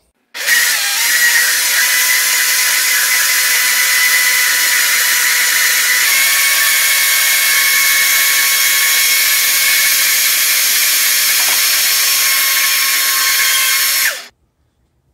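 A countertop blender whirs loudly and steadily for about fourteen seconds while blending a blueberry fruit smoothie, then cuts off abruptly.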